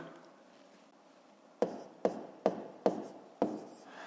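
Five quick, close pen strokes on paper as multi-digit numbers are written out for column multiplication. Each stroke is a short, distinct scratch in an otherwise quiet room.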